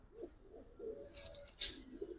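Giribaz pigeons give soft, low coos close by, a few quiet murmuring calls with faint rustling and higher scratchy noises mixed in.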